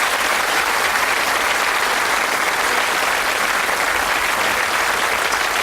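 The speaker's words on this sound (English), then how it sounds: "Give them a wonderful round of applause." Studio audience applause greets contestants on a UK TV game show, dense even clapping at a steady, loud level throughout.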